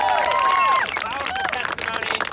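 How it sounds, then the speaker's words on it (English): Audience applauding a woman named Edith at a public meeting with California assemblymen, a brief burst of clapping and crowd noise under nearby cheering voices and talk. "round of applause for Edith"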